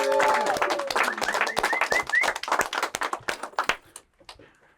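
Audience applause greeting a guest DJ and music producer arriving on a talk show, dense clapping that starts loud and thins out over a few seconds, with sustained tonal music or voices underneath.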